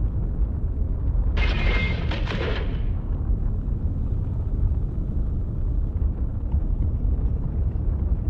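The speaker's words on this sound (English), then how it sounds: "Just some rumbling going on from the engine noise." Spaceship engine rumble in Star Citizen, a continuous loud low roar with a brief crackling burst of higher noise early on, no talk.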